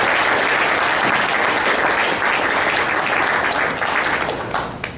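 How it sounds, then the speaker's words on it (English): At a symposium, a hall full of attendees gives the organizers a loud, continuous round of applause, thick and steady before thinning slightly at the very end. "please, a round of applause for the people"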